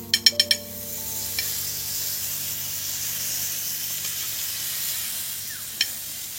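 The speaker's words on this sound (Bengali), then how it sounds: "এবার বাটার দিয়ে দিচ্ছি" Butter sizzling on kulcha in a hot pan, a steady soft hiss that runs throughout, opened by a quick series of sharp metallic taps and followed later by a single faint clink.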